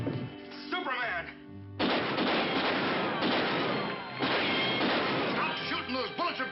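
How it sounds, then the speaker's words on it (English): Gunfire rings out in bursts with sharp impacts and whining ricochets as bullets bounce off, loud and dense, with voices talking over parts of the barrage. "Stop shooting! Those bullets are bouncing all over!"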